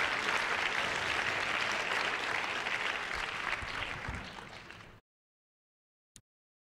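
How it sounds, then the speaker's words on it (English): A room of attendees at a 2018 United States Aquatic Sports board candidates meeting applauds steadily for about five seconds before it cuts to silence, with one faint click near the end. "a round of applause for everybody"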